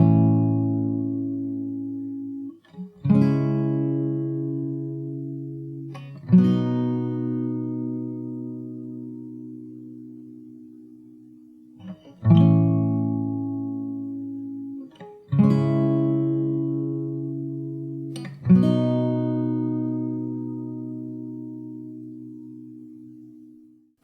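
A fingerstyle acoustic guitar plays the intro of a song: six plucked chords spaced a few seconds apart, each ringing out and slowly decaying, close and alone without voices.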